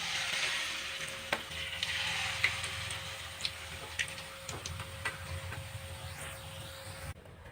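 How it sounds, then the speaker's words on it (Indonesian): Peanut rempeyek crackers fry in hot oil with a steady broadband sizzle, dotted with sharp crackles and pops throughout, close and moderately loud, no voices. "Nah, kalau sudah bersih baru kita goreng lagi rempeyek lainnya."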